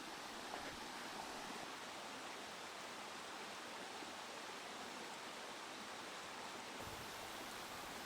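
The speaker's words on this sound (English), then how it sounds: "Looks like I got a river crossing." Stream water rushes at a river crossing on Edmands Trail in the White Mountains, a steady, even, broadband wash of flowing water heard alone at a moderate distance.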